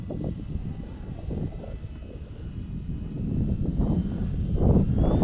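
A Timber Turbo RC airplane hangs in a propeller hover, its motor giving a steady, fairly faint buzzing whir that swells slightly toward the end, with no voices.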